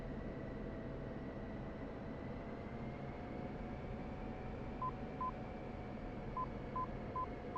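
Inner marker beacon on an F-16 approach in a flight simulator, a series of short, faint, evenly spaced high beeps over a steady low jet engine rumble.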